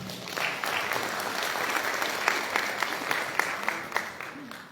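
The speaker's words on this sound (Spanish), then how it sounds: "La recibimos con un fuerte aplauso." Steady, loud audience applause at an education innovation congress as a speaker is welcomed, a dense wash of clapping with a few sharper claps rising near the end.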